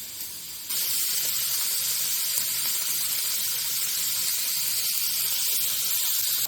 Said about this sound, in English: our sausage is really browning up really nicely